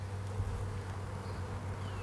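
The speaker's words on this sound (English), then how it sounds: "And those are the attendant bees which travel with her." Honeybees hum steadily around the queen and her attendant bees in an opened hive, a close, even, low buzz with no talk.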